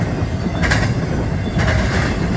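A fast train thunders past close by on the track, a loud continuous rumble of rolling wheels with rhythmic clacks as the cars go over rail joints.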